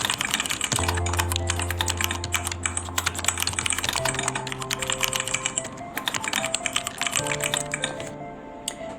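Steady, rapid typing on a computer keyboard while entering text in a word processor, with dense, close key clicks in continuous bursts and no pauses, heard alone over a faint background hum.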